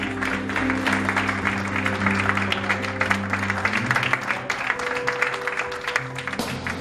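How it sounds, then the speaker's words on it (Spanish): A church congregation claps in a sustained, dense burst of applause, with steady sustained musical tones, likely an organ or keyboard, running underneath throughout. "Un fuerte aplauso a Dios."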